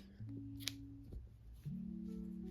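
One quiet snip of scissors cutting crochet yarn after a chain stitch on handmade shorts, a faint, brief cut over steady low tones.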